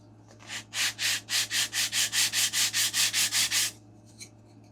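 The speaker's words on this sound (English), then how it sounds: "Let's go give this a little sanding." About fourteen steady, rhythmic rasping strokes of sandpaper rub against a small wooden model airplane fuselage, a Great Planes Ultra Sport 1000, close up, over a low hum.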